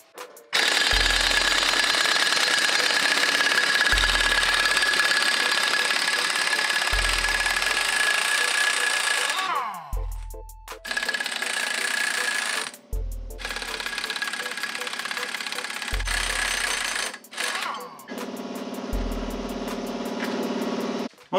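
An impact wrench removing the six wheel lug nuts from a GMC Sierra AT4 pickup, a loud, close, continuous buzzing hammer rattle in long bursts, each cut off and restarted several times in succession.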